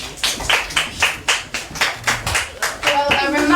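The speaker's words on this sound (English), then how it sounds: "Let's give a round of applause for our very brilliant scholars" An audience claps in a steady, lively round of applause for spelling bee scholars, the bursts rising and falling in quick rhythm, close and loud, with a few voices calling out near the end.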